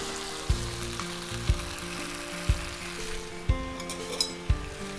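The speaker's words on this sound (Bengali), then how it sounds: "এখন ভালো মতো কষিয়ে নিচ্ছি, কমপক্ষে আমরা 10 মিনিট এটাকে ভালো মতো কষিয়ে নেব" Spices being sautéed in a pan for a long slow cook, a low steady sizzle broken by soft regular knocks of a spatula roughly once a second, close and fairly quiet.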